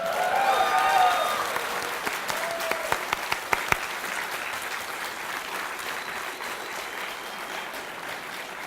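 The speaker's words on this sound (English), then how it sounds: "Everybody start clapping really loud." Conference audience at a security talk claps loudly, a dense wash of applause that swells at the start and keeps going steadily with a few sharp claps standing out, then tapers slightly toward the end.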